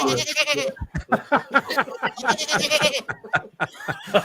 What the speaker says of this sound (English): It's a goat, baby.